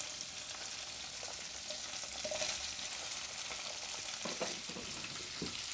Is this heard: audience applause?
no